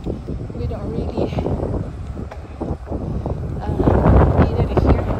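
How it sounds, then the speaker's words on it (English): Wind buffets the microphone while cycling outdoors in Leduc, a steady low rumble that gusts louder toward the end. "It's windy actually right now, so it's kind of difficult to pedal because it's windy."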